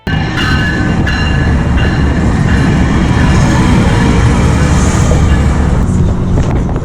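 Loud, steady rumble of a Metrolink commuter train rolling in close by, with a constant low roar and a high squeal rising toward the end.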